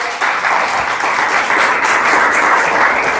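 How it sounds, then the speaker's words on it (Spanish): A church congregation applauds together, a loud, dense and steady wash of clapping that fills the room from start to finish. "Dale un aplauso al Señor, aleluya."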